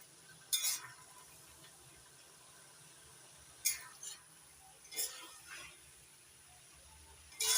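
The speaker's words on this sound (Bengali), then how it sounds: "এখন আর ঢাকা দিয়ে রান্না করব না, নাড়াচাড়া করে জলটা শুকিয়ে দিই।" A spatula stirs bottle gourd in a pan to cook off the water, giving a few brief scraping clinks spaced apart over a faint, quiet sizzle.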